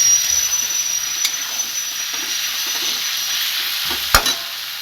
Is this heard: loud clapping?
no